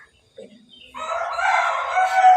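A rooster crows loudly and close by, one long strained call rising after a couple of short clucks.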